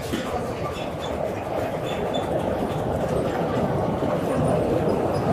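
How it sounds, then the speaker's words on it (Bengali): A train crossing the Padma bridge gives a steady, broad rumble that holds an even loudness for several seconds, with faint high metallic tones above. "আর একটা ট্রেন যাচ্ছে পদ্মা সেতুর উপর দিয়ে"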